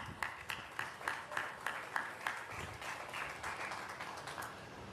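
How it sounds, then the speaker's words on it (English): A small crowd at an outdoor ribbon-cutting gives a faint, distant scatter of clapping, individual claps audible at first and then merging into a soft patter. "That's an applause line, folks."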